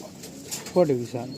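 A single short pigeon coo rises briefly and close, a low throaty call of under a second set against a quiet background.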